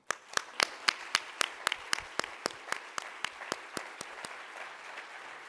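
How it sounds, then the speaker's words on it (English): A conference audience claps for exhibitors and sponsors, a thin, evenly spaced run of individual claps from a small group that slowly fades. "So I really like to give a hands of applause to all of our exhibitors for participating in the conference"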